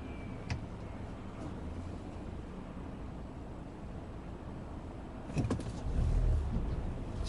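Chevrolet Aveo 1.6 hatchback with a manual gearbox cruising below 2500 rpm, a low, steady engine drone and road rumble inside the cabin, with a brief clunk and a louder surge of low rumble near the end.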